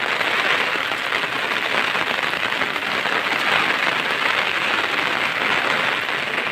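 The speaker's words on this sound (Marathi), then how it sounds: "पाऊसानं थांबायचं नाव नाही घेत आहे" Steady, dense rain falls on a forest during the monsoon, a constant close hiss of drops on leaves and ground with no break.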